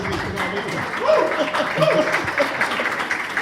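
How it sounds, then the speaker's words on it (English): Audience applause at a talk show held at the Australian Ambassador's Residence, a dense continuous wash of clapping with a voice speaking over it. "so everybody keep clapping"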